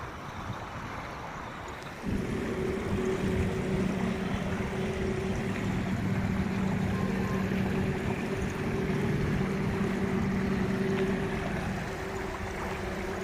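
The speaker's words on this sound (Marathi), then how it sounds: "पाऊस पडलाय पाणी भरपूर आले असं" A stream swollen with rainwater flows steadily near a village well in a spot used for washing clothes. It makes a continuous broadband rush, and a low droning hum joins in after about two seconds and holds to the end.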